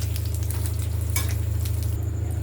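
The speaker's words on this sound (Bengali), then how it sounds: "এইভাবে সব মাছগুলো একটু একটু করে সব ভেজে নেব।" Pieces of rohu fish fry in hot oil for a Bengali-style kalia, giving a steady, close crackling sizzle with a low hum underneath and a brief clink of a utensil partway through.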